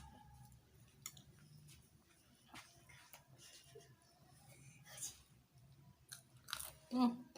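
Close-up crunching and chewing of crunchy Padang-style sambal lado cobek with anchovies (teri), soft irregular bites with a few louder crunches near the end, faint talk in the background.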